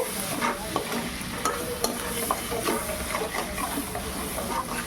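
Onions sizzle in a pan with salt, frying steadily close up while a utensil stirs and scrapes with irregular taps and clicks, no voices heard.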